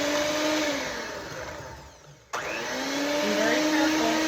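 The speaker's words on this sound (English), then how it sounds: "I'm going to stick the little blender thingies right on top of the shortening." An electric hand mixer beats shortening for pumpkin bread, a loud steady whine that cuts out briefly and then restarts, with a voice talking over it.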